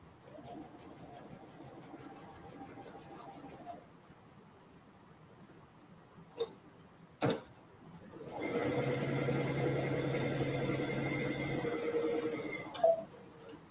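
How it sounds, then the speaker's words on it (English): Sewing machine stitching a quarter-inch seam around a small trapezoid piece of kids' boardshorts: a quiet hum first, a couple of sharp clicks, then a louder sustained whirring run of stitching, close by. "I'm going to stitch with a 1/4 inch seam allowance all the way around this little trapezoid shape"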